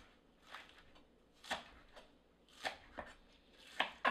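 A knife chops green onions on a board in sparse, quiet strikes spaced irregularly, close and faint with no talk.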